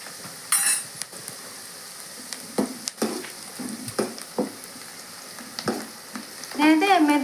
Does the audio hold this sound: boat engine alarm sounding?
no